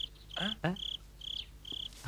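Crickets chirp in bright, rapid pulsed trills that repeat in short bursts, close and clear, while a voice speaks briefly in between.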